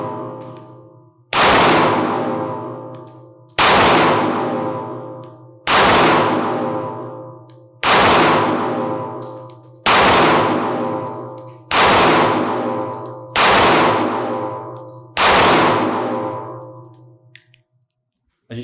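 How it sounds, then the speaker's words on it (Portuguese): A small .380 pistol fires nine loud, sharp shots one at a time, each a close crack with a decaying ring, evenly spaced about two seconds apart. "A gente deu os 9 disparos"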